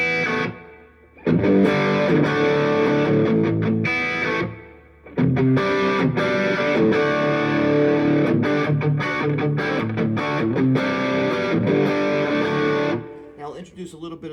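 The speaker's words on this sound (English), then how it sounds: "I'll put some reverb on so you can hear what it sounds like with the Flint reverb" An electric guitar through a Hudson Electronics Sidecar overdrive pedal and a Flint reverb plays a gritty, sustained riff drenched in reverb, with a brief pause midway before carrying on loudly.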